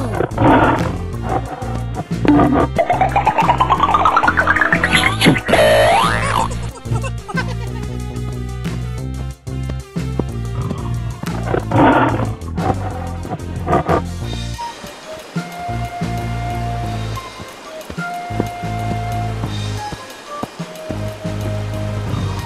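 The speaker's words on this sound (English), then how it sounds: "Tiger." A tiger roars loudly and repeatedly among heavy music and rushing, water-like noise, with several long, rough bursts dominating the first half before the sound thins out.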